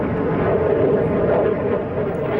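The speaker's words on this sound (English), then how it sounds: "The display aircraft at the show was the latest export version." A Saab Gripen fighter jet, the export version, flies a display at the Farnborough Airshow, a loud sustained roar of jet engine noise holding steady throughout.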